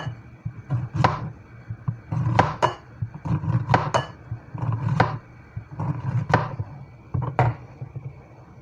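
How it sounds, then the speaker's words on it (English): A knife thinly slices summer squash on a cutting board, giving repeated sharp clicks and taps in quick clustered bursts, close and distinct, with no voices. "we want to thin slice our summer squash to the way that we need it"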